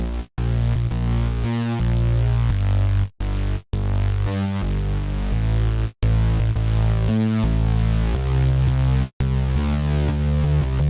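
Deep bass line in a produced beat, heard without an analog clipper: a sustained, rolling low-end pattern with shifting notes and brief gaps, loud and upfront with no voices.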